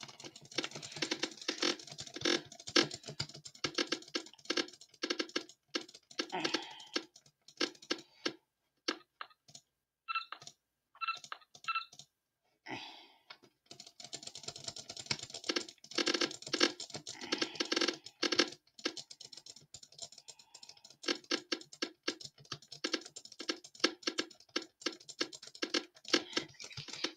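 Rapid mouse clicking with two fingers while playing Cat Clicker: dense bursts of fast, close clicks and taps that come in flurries, pause briefly and then resume for a long stretch.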